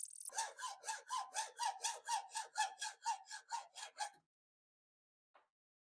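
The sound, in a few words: Miller's Falls hacksaw cutting nose off Stanley No. 1 plane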